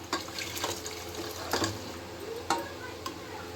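Boiled chickpeas stirred into masala in a pan for chhole bhaji, a soft background sizzle with a few distinct clinks and scrapes of a spoon, quiet and close.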